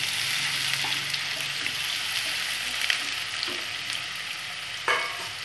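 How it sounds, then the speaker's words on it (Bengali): Onions deep-frying in hot oil with melted sugar, a steady broadband sizzle over medium-high heat with occasional sharp pops and spatters, continuous and close, no talking. "এবার আমি পেঁয়াজগুলো দিয়ে দিচ্ছি। পেঁয়াজগুলো ডিপ ফ্রাই হয়ে ব্রাউন হয়ে যাবে"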